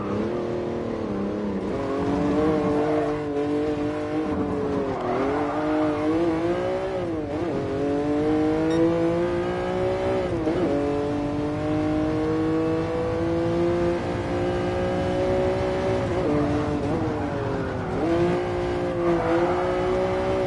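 A Jaguar XJ13 racing around the Nordschleife in GT Sport, its engine loud and close, repeatedly climbing in pitch through the gears, dropping at each shift or lift, then revving up again, with no talking.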